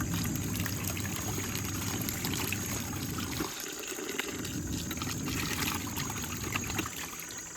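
Hot water pours steadily for laundry in a house in Khanom, Thailand, a continuous close splashing and trickling flow with a slight dip partway through and no talk.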